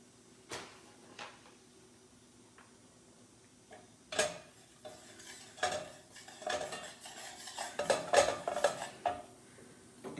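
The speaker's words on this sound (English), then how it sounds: "make sure the butter is all blended in before you add your next tablespoon" Butter being stirred into a pan for green bean casserole, with scraping and clinking of a utensil against the pan in irregular bursts that grow busier toward the end, close by.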